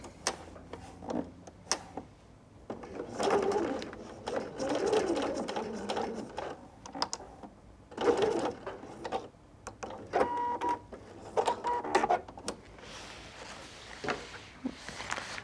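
A sewing machine stitches twill tape on a drawstring backpack, running in several short, uneven bursts with pauses between them, close and fairly quiet.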